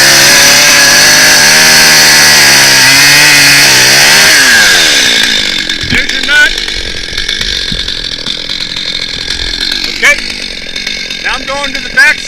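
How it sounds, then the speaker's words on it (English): A chainsaw cutting into a tree trunk during felling, loud and close, its engine whining at high revs and then dropping and sputtering as the cut ends, with someone speaking over it. "I always go down rather than up. It's easier to make this cut."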